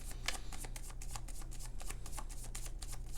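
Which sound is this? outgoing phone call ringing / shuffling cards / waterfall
shuffling cards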